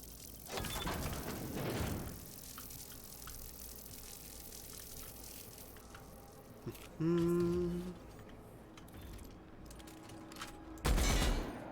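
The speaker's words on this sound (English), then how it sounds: "Tactical shotgun." Tactical shotgun blasts in The Outer Worlds, a couple of loud, sharp shots near the start and another near the end, with mechanical whirring and a short tonal beep in between.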